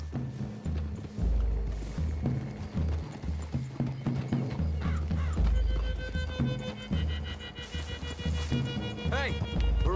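Horses walk through a wooded clearing in Red Dead Redemption 2, their hooves clip-clopping steadily and close by while characters talk over the hoofbeats.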